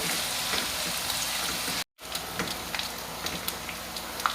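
Ginger and garlic paste frying in a pan until browned, a dense steady sizzle with crackling pops, broken by a momentary silent cut.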